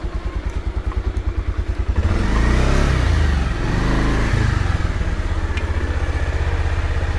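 A Bajaj Pulsar motorcycle engine thumps steadily at close range, then swells into a louder rev before easing back to its pulsing idle-like rhythm.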